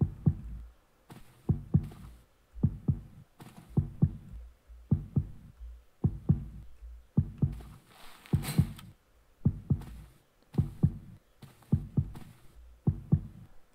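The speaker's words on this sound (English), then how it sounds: "I can hear his fucking heartbeat." A guard's heartbeat in the stealth game Splinter Cell thumps as a steady, regular double pulse, each low, muffled beat close and prominent against near silence, repeating about a dozen times.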